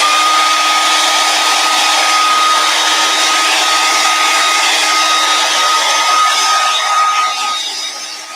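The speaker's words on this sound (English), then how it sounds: "I'm going to run the hairdryer just a few more minutes." A hair dryer runs steadily and loudly up close for several seconds, a constant whirring blow that fades slightly at the end.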